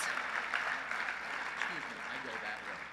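Evening gala crowd applauding honorees at a mentoring event, a fairly quiet, distant wash of clapping with voices murmuring over it.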